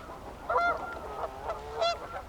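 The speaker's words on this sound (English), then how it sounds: "Geese. geese." Geese honk by a Wisconsin lake in two distinct bursts of harmonic calls, moderately distant, over a steady low background of outdoor noise.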